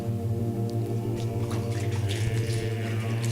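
Water runs steadily inside a building, making a continuous hissing wash with a few faint splashes. It sits over a prominent low electrical hum, and there are no voices.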